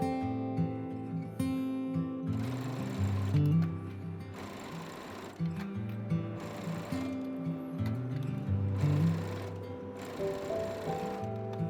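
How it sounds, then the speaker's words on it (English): A sewing machine stitches skirt lining to a babydoll halter dress bodice with a 1 cm seam allowance, running in repeated bursts of rapid whirring separated by short pauses, close and clear with no talk. "sew it with 1 cm seam allowance, enclosing the bodice between the two layers"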